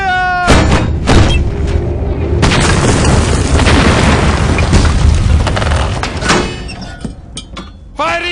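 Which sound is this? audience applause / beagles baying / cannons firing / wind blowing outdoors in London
cannons firing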